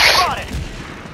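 Sentry turret fire in Helldivers 2, a sharp loud burst at the start that rings away into a booming rumble, with a voice briefly over it.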